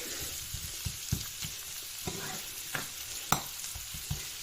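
Glass noodles and vegetables stir-fried in a pan, with a steady sizzle beneath repeated scraping and clanking strokes of a spatula at an irregular, unhurried rhythm.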